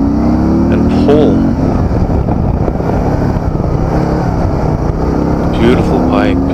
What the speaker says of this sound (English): Beautiful bike, beautiful sounding bike, beautiful sounding engine.